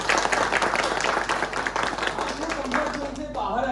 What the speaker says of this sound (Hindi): इसलिए आप लोगों के लिए एक तालियां चाहिए